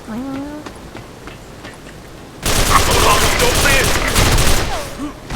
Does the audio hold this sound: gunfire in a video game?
yes